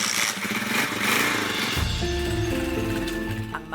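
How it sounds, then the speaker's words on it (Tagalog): A motorcycle carrying a father and child on the road to school rumbles close by, its engine droning steadily and then shifting to a lower, heavier tone partway through. "Ang mag-ama sumakay na ng motor papuntang eskwelahan."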